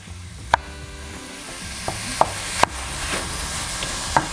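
Ground beef frying in its own fat over medium heat, a steady sizzle with a few sharp clicks of a utensil scraping and stirring in the pan.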